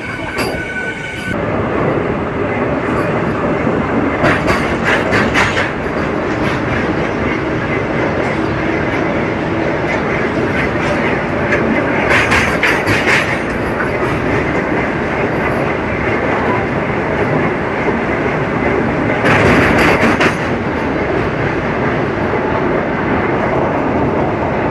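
Narasapur–Guntur passenger train leaving Vijayawada junction, heard loud and close as a steady rolling rumble with bursts of bright wheel squeal and clatter, no talking.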